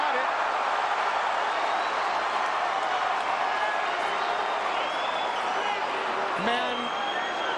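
A crowd at a wrestling show roars and cheers in reaction to a takedown, a dense, steady wall of noise that runs through the whole stretch, with voices talking over it.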